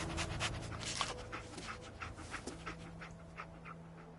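Dogmeat, the dog in the video game Fallout 4, pants rapidly and steadily, close but fairly quiet, over a low background hum.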